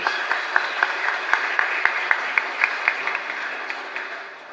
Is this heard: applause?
yes